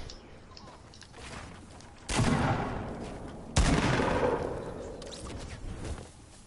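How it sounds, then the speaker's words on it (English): Gunfire in a video game: two heavy broadband volleys, the second louder, each ringing out and decaying over a second or more against a steady background, with the later blast trailing into a long rumbling tail. "Whoa, I'm getting shot at."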